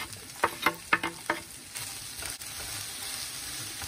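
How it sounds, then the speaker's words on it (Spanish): Onion and garlic drop into a hot pan with several sharp clatters, then settle into a continuous close sizzle, with no talking. "Aquí vamos a poner la cebolla y el ajo."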